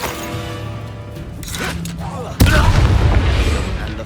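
A Confringo blast spell erupts in Hogwarts Legacy, a sudden loud explosion with a booming broadband burst midway that lingers in a rumbling wash over steady game ambience and music.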